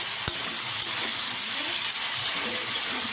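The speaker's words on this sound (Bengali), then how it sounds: "আমি এখানে সবজিগুলোকেও ভাজতে দিয়ে দিয়েছি" Vegetables frying lightly in a pan for a lentil-style dalia dish, a steady bright sizzle and hiss running continuously with a couple of faint knocks, close and even.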